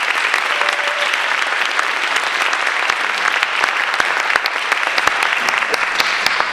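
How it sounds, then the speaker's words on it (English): Loud, dense round of applause from an audience at a spiritual center, sustained and even for several seconds with sharp individual claps standing out. "Please give Thomas Jefferson a round of applause."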